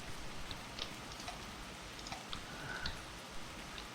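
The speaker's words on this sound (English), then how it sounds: "It's hard to tell with the rain and the mist." Rain falls steadily in the video game Escape from Tarkov, a soft continuous hiss with scattered faint drip ticks, distant and even throughout without talk.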